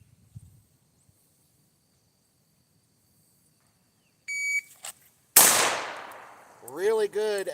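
A single loud, sharp gunshot at a shooting range cracks out after a quiet stretch and a few electronic timer beeps, followed by a rising whine.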